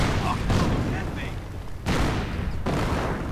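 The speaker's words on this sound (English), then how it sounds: "the Panzer IV is just firing a deranged fusillade of high explosive shells" Panzer IV tank in a wartime strategy video game firing high explosive shells in a rapid fusillade: several loud booming shots with broad crackling bursts, the sharpest near the start and two heavy blasts later, over continuous battle noise.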